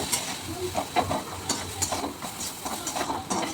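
Spice masala sautéing in a pan for aloo paratha, a soft, steady sizzle and scrape of stirring with faint hissing, close by and without talk.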